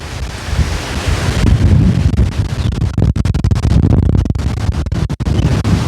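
A fierce storm wind of up to 70 mph at an RV site, blasting a close microphone with a loud, continuous roar and crackling buffets that surge and briefly drop out.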